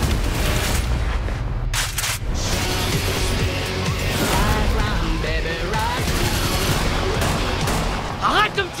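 Rapid bursts of gunfire crackle through a French-dubbed action film trailer, loud and dense over rumbling effects, with voices speaking amid the shooting.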